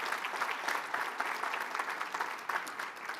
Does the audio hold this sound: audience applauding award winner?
yes